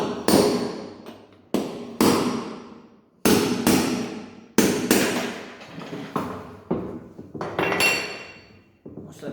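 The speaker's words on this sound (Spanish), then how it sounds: "Con un eje así como este, un martillo, vamos a proceder a sacar el rodamiento." Hammer striking a shaft to drive a bearing out of a front-load Mabe washing machine: about a dozen sharp metallic blows with ringing decay, close and loud, in an uneven rhythm.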